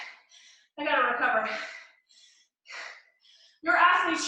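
Heavy, gasping breaths from someone worn out at the end of a hard home bodyweight workout, coming in three loud, close bursts separated by quieter pauses.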